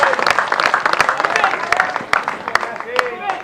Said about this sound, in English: Round of applause just for the hockey